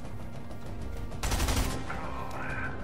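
SMG gunfire in a video game, a short burst of rapid shots rising suddenly out of quiet background ambience, fairly faint and distant, with no voices.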